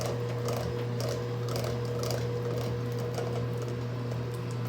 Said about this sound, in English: We're gonna use our hand mixer again.